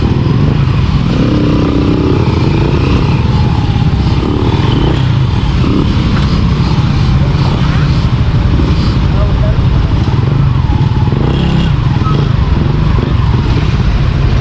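A smoky, newly bought motorcycle engine revs loudly and steadily close by, a constant rough roar throughout with people talking over it.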